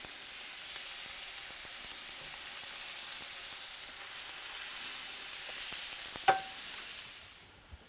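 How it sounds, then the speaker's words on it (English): Chuck steaks with jerk seasoning searing in a hot oiled pan, giving a steady broad sizzle close by with one sharp pop near the end, no talk. "We're going to put the chuck steaks in the hot pan. I got a nice sizzle to them."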